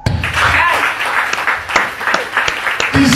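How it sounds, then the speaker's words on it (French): A church congregation claps and cheers loudly in a dense burst of applause, with voices mixed into the crowd noise. "Acclame."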